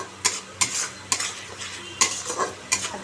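Black cumin and spices frying in hot oil for fish curry, with a spoon scraping and stirring the pan in five or six sharp strokes over a low sizzle, close by and without talk.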